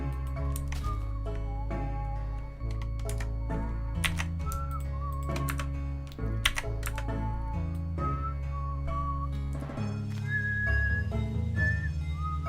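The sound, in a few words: person whistling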